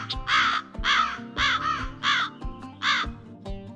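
Several crows give loud, close, raspy caws, five calls in quick uneven succession over a few seconds, with nothing else heard.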